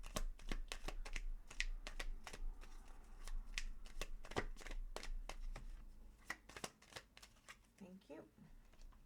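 Tarot cards riffled and slapped down in a rapid series of sharp, close snaps and flicks, slowing to a few separate card placements near the end, with no one talking.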